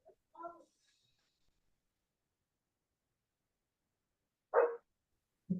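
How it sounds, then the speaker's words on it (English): A dog barks outdoors, a few short, separate barks with long quiet gaps between them, heard from a moderate distance. "I think she's still barking outside."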